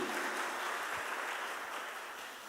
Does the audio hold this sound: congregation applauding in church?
yes